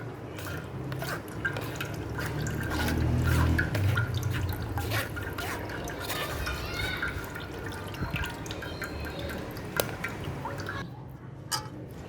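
Water is poured into a cooking pan while sardai (thandai) is made, giving a wet splashing and dripping with a louder burst early on. A voice talks over it.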